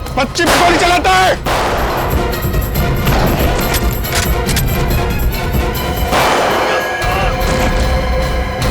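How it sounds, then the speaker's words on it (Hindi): Gunshots ring out in a tense scene from a Hindi TV crime drama, loud, sharp bursts over a busy dramatic soundtrack, with a short cluster early on and more impacts scattered through. "बच्ची पे गोली चलाता है।"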